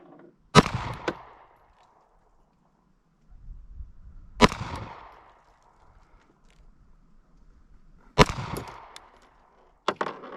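Rifle shots at an outdoor shooting range, fired with a reflex sight: three sharp, loud reports spaced several seconds apart, each with a short ringing decay, and a fourth shot cut off at the end, with faint rustling in between.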